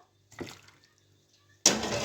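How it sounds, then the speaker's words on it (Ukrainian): Tap water bursts on and runs hard over pork ribs being rinsed in a kitchen for borscht, a loud steady splash arriving after a few soft clinks and handling noises. "А зараз промиваю м'яско"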